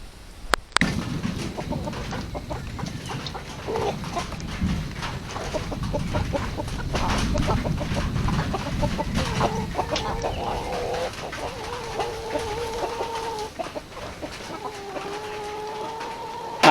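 Free-range chickens cluck and chatter around a feeding spot on a farm, a busy, close flock with scattered squawks and a few drawn-out calls rising toward the end.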